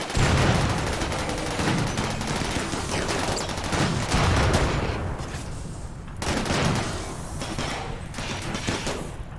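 Dense, sustained gunfire in the video game RimWorld, with rapid overlapping shots and bursts forming a loud continuous barrage that swells and dips in waves.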